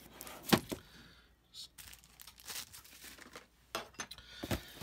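A blade slicing the cellophane and cardboard of a 1965 AMT El Camino model kit box, heard as quiet scattered crackles, scrapes and crinkles with small sharp ticks.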